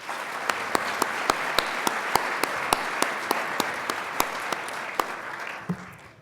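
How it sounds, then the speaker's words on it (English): Audience applause at an evening real estate challenge event, a steady wash of clapping with sharp individual claps standing out throughout, sustained and fairly loud before tapering at the end. "Let's give them a big round of applause."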